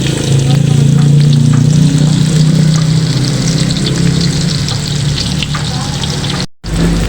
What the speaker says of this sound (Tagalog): Ilalagay ko na po itong sibuyas bawang.